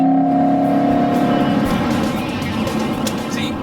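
A throaty 5.0-litre Ford Mustang GT V8 engine rumble heard from inside the car, loud and steady with a slight shift in pitch as it pulls.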